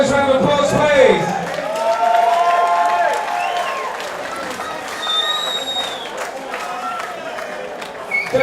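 A crowd applauds and cheers after a welterweight title fight at a Superfight 10 event. Steady clapping and whoops fill the hall, with a few shrill whistles, then fade slightly toward the end.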